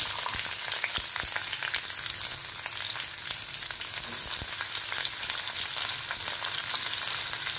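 Onions fry in hot oil for paneer mash, a steady crackling sizzle with frequent sharp pops, close and continuous with no talking.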